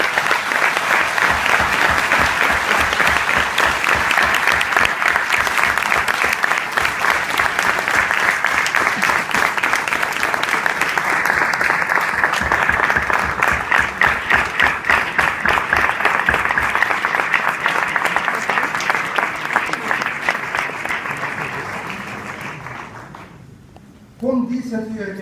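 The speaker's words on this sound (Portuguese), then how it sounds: "a todos os presentes, por favor, um aplauso de apreço" An audience at the Portuguese ambassador's Portugal Day speech in Mozambique gives long, steady applause, dense rhythmic clapping that holds for about twenty seconds, then fades and cuts off.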